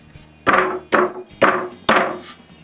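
Four firm knocks at a steady pace as wooden shelves are pressed down onto cut roofing nails to mark the wood for a home-theatre stand, each impact close, sharp and woody with a short ring.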